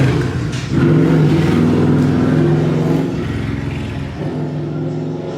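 Street traffic on a loud city block, with a car engine revving and accelerating close by, then a steady rumble of vehicles that eases slightly toward the end.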